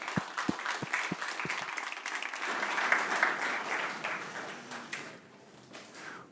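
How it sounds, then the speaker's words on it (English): Audience applause for two presenters at a PyData conference session, a dense wash of clapping that begins with a few separate claps, swells and holds, then thins out over the last second. "Let's give them a round of applause."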